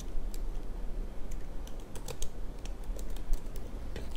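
Typing on a computer keyboard, a fast irregular run of close, crisp key clicks over faint background noise, with no speech.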